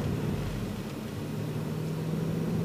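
Mercedes-AMG car engine growling under throttle while driving, a steady low hum with a faint tonal drone, heard from inside the cabin at moderate level without any speech.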